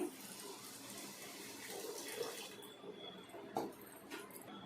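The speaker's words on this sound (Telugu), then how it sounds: "దానికి సరిపడినంత నీళ్లు పోసుకుంటున్నానండి" Water pours steadily into a container of sugar, a soft continuous splashing rush that stops partway, followed by a few faint clinks and splashes.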